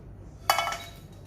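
A single light clink of a metal spoon or pan tapping a bowl as cooked cumin and poppy seeds are tipped in, brief and bright, followed by faint ringing in a quiet kitchen.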